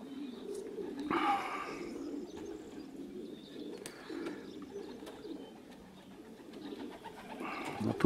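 Racing pigeons arriving at a loft coo softly, with brief wing flaps and faint chirps over a low, steady background hum.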